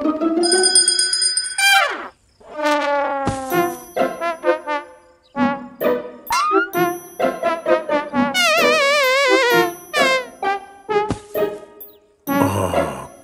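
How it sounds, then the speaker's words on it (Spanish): A handbell rings in the Spanish-language Pocoyo cartoon, giving bright, repeated tinkling rings mixed with bouncy musical tones, clear and close. "¿Eso que suena no es una campana?"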